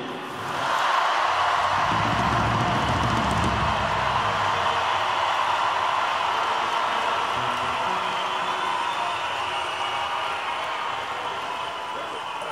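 Audience in a diocesan gathering applauding a bishop at the end of his term: steady, dense clapping from a crowd that builds quickly and holds at an even level throughout, with a hissy, washed-out quality and no voices over it.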